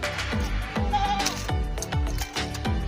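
Goats bleat repeatedly in quick succession, several overlapping quavering cries close by, loud and insistent with no talk.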